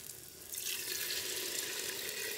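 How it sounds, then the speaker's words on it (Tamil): Water poured into a clay pot of North Indian fish curry with spices, a steady, close splashing pour that swells after the first half second and runs on without talk. "தண்ணி,"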